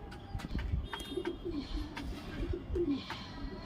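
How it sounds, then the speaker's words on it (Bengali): A male pigeon in a loft gives soft, repeated cooing calls in a low rolling rhythm, close but quiet, with faint shuffling and clicks around it. "এটা হচ্ছে মেল পায়রা, যাকে আপনারা নর বলে থাকেন।"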